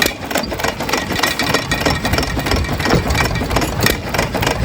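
An antique hit-and-miss engine runs steadily at an engine and tractor show, giving a continuous mid-pitched mechanical chugging with rapid rhythmic pulses and a busy outdoor background.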